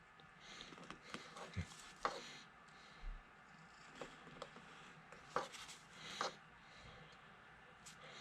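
A tool scrapes and picks at a soft eggshell while carving a chick's nose, giving faint, scattered rasps and small taps close by.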